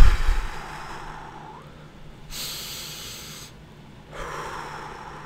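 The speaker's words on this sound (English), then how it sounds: "And just sit there, and I want you to just breathe." Slow relaxed breaths taken during a calm guided relaxation, soft airy inhales and exhales in a few long broadband swells, close and quiet with no talking.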